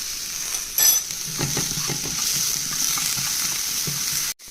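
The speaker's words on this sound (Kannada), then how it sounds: "ಸ್ವಲ್ಪ ಸಾಸಿವೆ, ಆಮೇಲೆ ಮಾಡಿದ ಆನಿಯನ್ಸ್ ನೀಟಾಗಿ ಮಿಕ್ಸ್ ಮಾಡ್ಕೋಬೇಕು." Chopped onions and mustard seeds fry in olive oil in a pan, a steady close sizzle with occasional scraping stirs, one brief sharp clatter early and an abrupt cut near the end.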